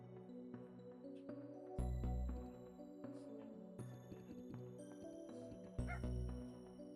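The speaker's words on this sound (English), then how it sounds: "Woof woof." In The Darkside Detective video game, a dog yips and barks in repeated short bursts over looping game music with low thumps, sounding light and cartoonish.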